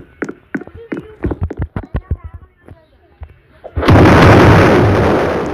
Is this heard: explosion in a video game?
yes